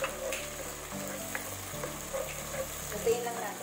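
Garlic and tomatoes sauté in hot oil for a beef sinigang, a steady close sizzle with occasional stirring scrapes and small pops throughout, no voices.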